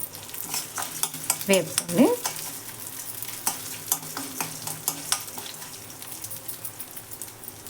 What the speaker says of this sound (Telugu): ఇదిగోండి, ఇవి వేగుతున్నాయి కదా.